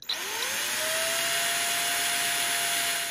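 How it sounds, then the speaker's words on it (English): A small power drill boring a small hole in a hand-carved wooden Christmas tree decoration spins up and whines steadily at high speed, a constant close buzzing tone with no talking. "I'm going to drill a small hole right in there."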